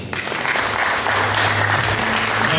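Wedding guests applaud at a wedding celebration, a dense, loud burst of clapping sustained throughout, close and continuous with no talking over it.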